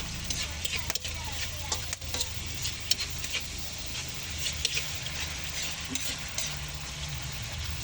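Garlic, ginger and onion stir-fried for a fried fish dish, with a steady broadband sizzle of frying in a pan and light scraping stirs throughout, fairly close and continuous.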